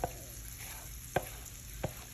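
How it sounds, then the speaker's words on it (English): A steady low crackle of frying in a hot pan, with a few sharp clinks and taps of a utensil standing out briefly. "You can hear it sizzling. I'm so glad you can hear it sizzle."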